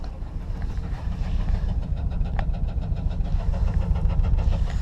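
A car engine running with a definite misfire, a loud low rumble and road drone heard from inside while driving, steady with slight uneven pulsing.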